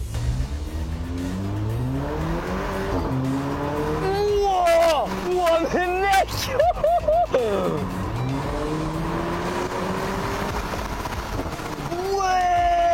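A 380-horsepower SUV accelerating hard in sport mode, engine note climbing in repeated rising pulls through the gears, loud and close from inside the cabin, with excited voices talking over it.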